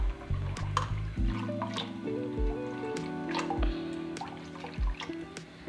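Water trickling and dripping into neer dosa batter in a home kitchen, soft wet splashes and drips at close range over a faint tonal hum.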